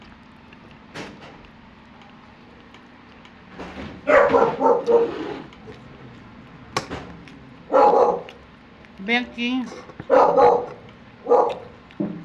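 A family dog barks in short bursts at a home, several yips and barks close by, with quiet room sound between them.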